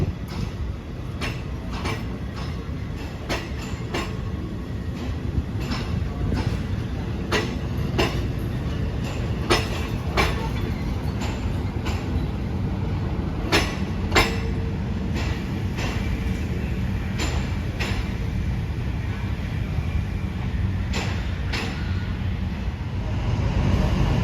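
A Thai passenger train rolls steadily past on the northern line near Nakhon Sawan station, with a continuous rumble and repeated clickety-clack of wheels over rail joints, loud and close, with no talking.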